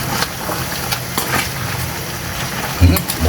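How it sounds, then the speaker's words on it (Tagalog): A spoon scrapes and stirs pork liver in a sizzling pan, with soft, irregular clatters and a gentle frying hiss, close by and fairly loud, ending in a few heavier knocks. "Haluin lang natin."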